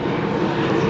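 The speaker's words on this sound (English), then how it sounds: "Sorry about the plane." An airplane drones overhead above a home vegetable garden of zucchini, squash and cucumbers, a steady, fairly loud broadband roar with no speech.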